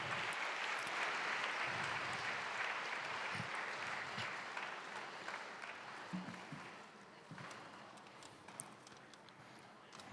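An audience claps through a welcome session, a dense, even patter of applause that is faint and roomy, gradually thinning and fading over about ten seconds.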